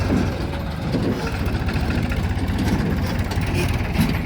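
A tractor engine runs steadily on a farm field where a JCB 3DX is loading soil, giving a close, continuous low throbbing rumble with no breaks.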